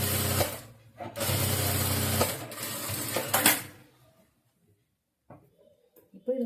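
A sewing machine stitches along blouse lining in two close, loud runs separated by a brief pause, then falls quiet apart from faint handling sounds and a voice.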